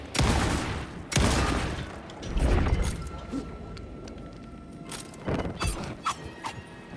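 Gunfire in the video game Alan Wake 2: several heavy booming shots with squealing, chaotic game noise between them, loud and dense, followed by softer clicks.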